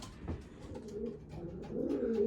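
Breeding pigeons in a loft, including pairs with young in the nest, give soft low coos close by, rising toward the end, with faint rustling and no speech.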